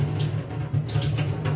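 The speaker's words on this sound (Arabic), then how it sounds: "وهحط كوبايه ونص ميه" Water runs steadily from a tap into a pot as syrup for mango kunafa is started in a home kitchen, a continuous near splashing flow with slight surges.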